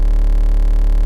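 A Serum synthesizer playing the 8-bit FWAP wavetable gives a loud, steady, low buzzing drone with a gritty harmonic edge, held continuously and alone.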